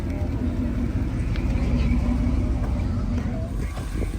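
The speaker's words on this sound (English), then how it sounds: "Gnarly pulling through in his old school Civic" An old-school Honda Civic rolls slowly past at a car show with a low, steady engine rumble close by, while someone talks over it.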